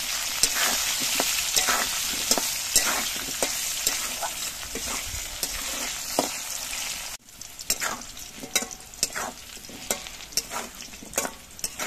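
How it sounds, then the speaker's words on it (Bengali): Potatoes frying in oil for a sea fish curry made without onion or garlic, a continuous close sizzle with frequent scraping stirs, briefly quieter partway then crackling on. "আলুগুলো দেখুন বেশ ভালো মতো ভেজে নিয়েছি"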